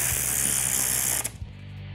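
Bolts are tightened with a ratchet to pull a fuel pump down into place on an engine, a fast continuous pawl clicking up close that stops abruptly after about a second.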